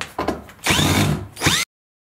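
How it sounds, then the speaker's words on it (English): A power drill or driver whirs up to back screws out of a wooden shipping crate, two close, loud bursts of motor whine with a short gap, ending abruptly. "I've already taken out a lot of the screws, but we can get the rest out."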